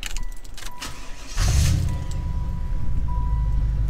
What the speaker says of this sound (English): I think I finally got the Impala SS to start reliably